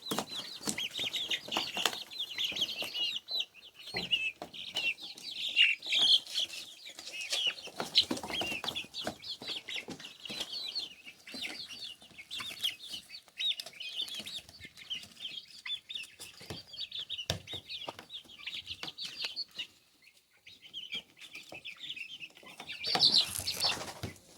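Chickens cluck and chatter continuously at close range while eating greens, a busy flock sound with scattered higher chirps throughout.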